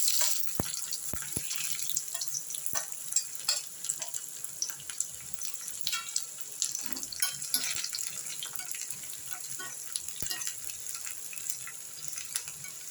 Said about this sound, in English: Now we'll put the shallots cut finely.